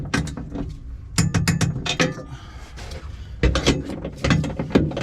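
Torque wrench working the bolts on a DC Sport front and rear strut bar, giving repeated short metallic ratcheting clicks in several bursts with brief pauses, close up and fairly loud.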